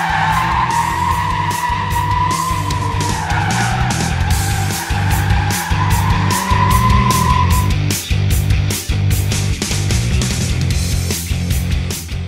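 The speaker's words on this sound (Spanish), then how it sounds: "Lucho Mendoza Jr., piloto del Team Yokohama, probando al máximo las nuevas llantas de Yokohama que darán que hablar." Race car pushed hard on new Yokohama BluEarth ES32 tires: a loud, sustained tire squeal wavers for several seconds under engine noise, then gives way to rough driving and road roar, close up with no voices.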